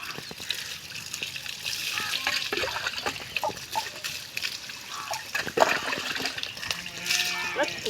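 Water poured and splashing over a goat as it is washed, a steady wet trickle and slosh running throughout with people talking over it.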